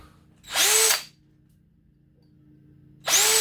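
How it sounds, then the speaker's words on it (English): A power drill whirs loudly in two short bursts, about half a second each, drilling holes in a plastic RC car wing, separated by a quiet pause with a faint low hum. "if you hit it fast with the drill"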